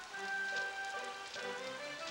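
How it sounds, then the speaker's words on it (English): Steady rain patters across a surface in Monster Rancher 2, a soft continuous hiss with scattered droplet taps, fairly even throughout and unaccompanied by talk. "It's raining. That can't be good for him."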